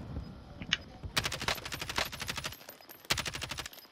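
Rapid automatic gunfire rattles out in long bursts during a Call of Duty Warzone trios match, loud sharp cracks in quick rhythm with a brief pause before one more burst.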